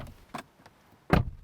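A Genesis G70 Shooting Brake door swings shut with one solid, close thud, preceded by a couple of faint clicks from the latch and handle.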